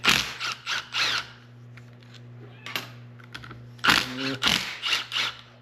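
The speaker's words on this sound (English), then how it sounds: "Pulling these bolts." Ratchet work on bolts of a John Deere 70 pony motor: bursts of quick clicking ratchet strokes come in short groups, close and fairly loud, with a pause in the middle and a steady low hum underneath.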